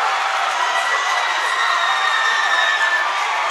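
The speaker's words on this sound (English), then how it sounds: "the crowd is in an uproar." A basketball crowd at a boys' high school game cheers steadily after a put-back dunk, a dense, sustained roar of many voices and shouts filling the gym at a loud, even level throughout.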